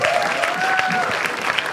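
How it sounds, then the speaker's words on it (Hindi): Loud, sustained applause from a live studio audience at a comedy talent show, steady clapping filling the whole moment with a faint tonal whistle over it. "चलो एक बार जोरदार तालियां"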